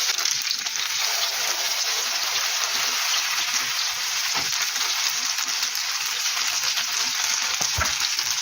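Close, steady sizzling of grated-potato pancakes frying in a hot pan, a continuous crackle with a faint clink near the end.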